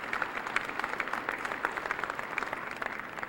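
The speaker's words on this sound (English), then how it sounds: "Let's give them a round of applause." An audience claps through a county address in Jefferson County, Missouri, a dense steady patter of many hands from a hall crowd, fairly close and unbroken with no talking over it.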